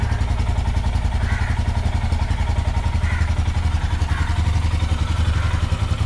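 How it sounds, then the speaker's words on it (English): A fuel-injected Royal Enfield motorcycle engine idles steadily at a raised RPM, close by, a continuous low rumble with a fast, even chugging pulse and no talking. "That's my engine idling now."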